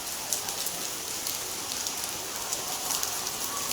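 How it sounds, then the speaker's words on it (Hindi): Steady rain falls on a village, a dense, even patter of drops on surfaces that stays moderate and constant throughout, with no voices. "सुबह सुबह से बारिश हो रही है आज।"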